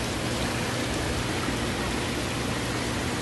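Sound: waterfall

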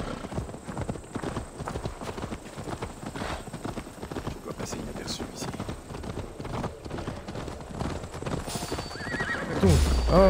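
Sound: horses neighing and hooves clopping in Assassin's Creed Valhalla video game

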